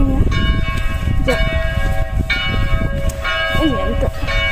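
Church bells ring steadily in Palau, Sardinia, their repeated clanging tones sounding close and loud over continuous low rumbling background noise, with a voice occasionally heard.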